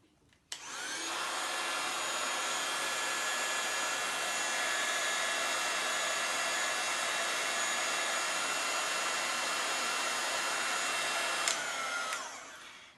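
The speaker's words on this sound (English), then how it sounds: "I'm going to use my heat tool just to dry this." A handheld craft heat tool drying a mixed media piece blows a loud, steady roaring whir for about eleven seconds, starting and stopping abruptly, with no talking.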